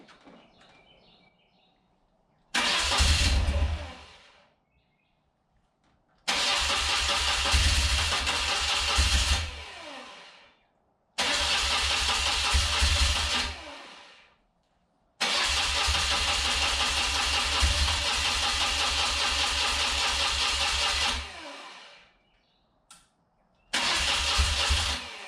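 Rare motorcycle, one of 286 built, cranked by its starter motor: several loud bursts of whirring, grinding cranking separated by silent pauses, close up and without voices.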